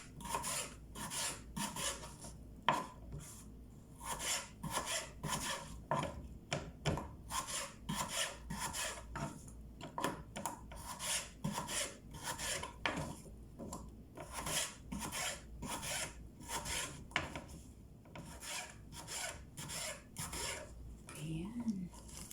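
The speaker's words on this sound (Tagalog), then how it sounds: "maghihiwa pa ako ng patatas" A knife slices potatoes on a board at home while making chicken nugget shawarma, producing steady repeated crisp chopping and scraping strokes, fairly close and quiet, with occasional brief talk.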